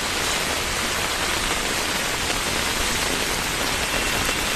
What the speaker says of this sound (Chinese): 大雨还在倾盆大泻